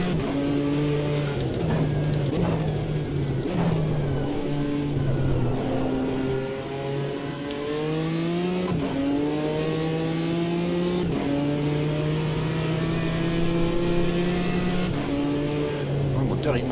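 A BMW M4 GT4 race car with 430 horsepower and 1500 kg, driven in the Automobilista 2 racing game, revs up repeatedly through its gears with clear shift drops, its loud engine drone continuous while someone talks over it.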